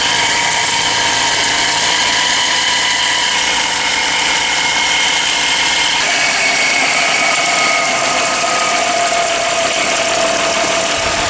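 A car engine idling with a failing bearing or belt tensioner, giving a loud, steady whirring drone with a high whine and faint rattling vibration, running continuously and close up.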